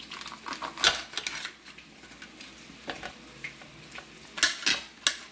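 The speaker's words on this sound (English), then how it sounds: "At the same time, I'm going to cut up a green pepper." A knife cutting up a green pepper on a board, a run of irregular close chopping taps and clicks, louder bursts near the start and end, no talk.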